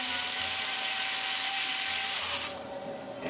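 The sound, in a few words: drilling a hole in ping pong ball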